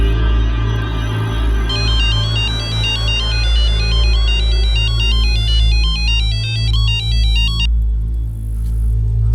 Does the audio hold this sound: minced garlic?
no